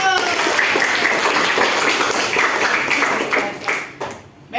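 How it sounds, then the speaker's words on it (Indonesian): Students clapping hands together in a classroom during an Islamic religious education lesson on funeral prayer, a lively burst of close applause that thins and fades toward the end. "Oke, tepuk tangan dulu."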